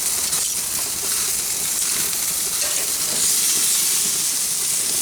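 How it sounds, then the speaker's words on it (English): A fully cooked sous vide honey garlic pork loin sears over an infrared grill burner, a loud continuous hiss and sizzle from rendering fat that holds steady throughout with no talking. "We're just trying to get a nice sear on it."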